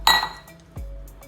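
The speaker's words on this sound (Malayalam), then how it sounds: "ഒരു മിക്സിയുടെ ജാർ ഇങ്ങോട്ട് എടുക്കാം." A kitchen mixer jar is lifted and set down: one bright metallic clink near the start, followed by a softer dull knock as it settles, in a quiet room.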